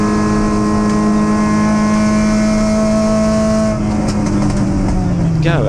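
MG race cars on the final lap of a circuit race, a loud sustained engine drone with steady harmonic tones, then a gear change and another car passing close by near the end.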